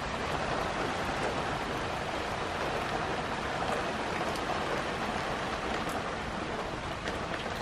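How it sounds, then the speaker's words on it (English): Heavy rain pours steadily at night on an autumn pumpkin farm, a dense, continuous hiss of downpour with no letup, loud and alone without voices. "It is just pouring out."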